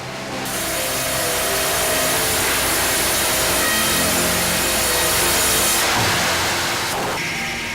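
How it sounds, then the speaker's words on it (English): A large powered saw cuts lengthwise through a massive tree trunk at an organ-building factory, a loud continuous buzzing roar held steadily for several seconds before the pitch shifts near the end. "Each massive trunk is cut in 2 pieces lengthwise, then quarter-sawn for the straightest grain."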